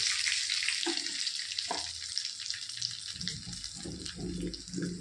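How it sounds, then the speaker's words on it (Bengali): Bay leaf, green and dry chilies and whole cumin sizzle in hot oil left from frying eggplant, a steady close crackling hiss with a few soft stirring knocks underneath. "ওই তেলের মধ্যেই দিয়ে দেবো একটা তেজপাতা, সবুজ শুকনো লঙ্কা ও গোটা জিরে।"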